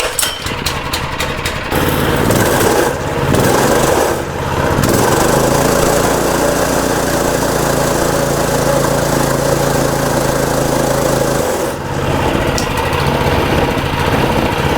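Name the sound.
abandoned mini bike engine running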